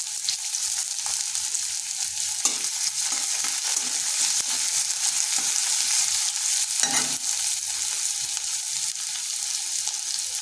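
Chopped onion hits hot oil with whole cumin seeds for an egg snack, giving a steady, loud broadband sizzle that lasts the whole stretch, with occasional stirring scrapes and clicks from the pan.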